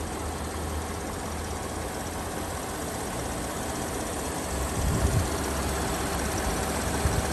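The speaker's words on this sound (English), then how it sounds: "Aurora V8." A 2003 Oldsmobile Aurora V8 idling with the hood open, a steady low engine drone heard up close, with a couple of brief louder bumps in the second half and no talk.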